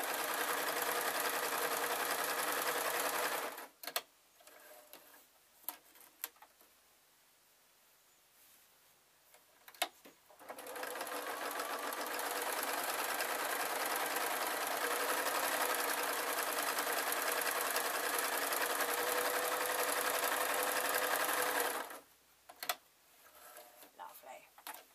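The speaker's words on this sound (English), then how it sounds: "sewing up the shoulders, and then I'm going to sew down the long sleeve again." A sewing machine stitching the sleeves and shoulders of a garment, a close, steady motor whir with rapid needle ticking in two long runs separated by a quiet pause with small handling clicks.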